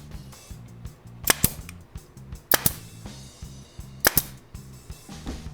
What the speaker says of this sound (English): I'll staple this and then cinch this over in 3 sections.